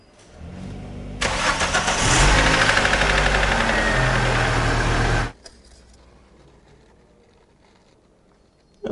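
Toyota car engine running on fresh oil after an oil change, a loud steady mechanical roar that kicks in abruptly, holds for about four seconds with a slight knocking texture, then cuts off to quiet background.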